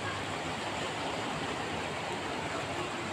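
Broad steady rush of a sandy riverbank river flowing, a soft even hiss of water with no breaks, moderately distant and fairly quiet.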